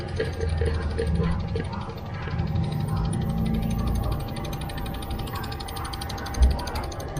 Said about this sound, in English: the motor is now turned on via the walk mode